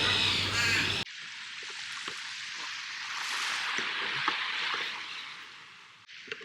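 Crows calling from a tree overhead at a beach by a river basin in Perth, Australia, a steady outdoor wash with several short caw-like calls scattered through, moderately close, after a brief burst of voices at the start.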